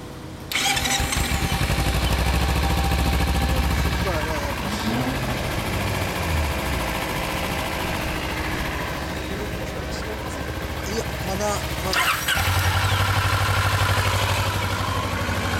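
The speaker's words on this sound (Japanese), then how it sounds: "エンジンの音、よろしく。" A 2013 Kawasaki Ninja 250 (EX250L) motorcycle engine starts and runs close by, a loud steady mechanical drone with a revving swell near the end, while people talk over it.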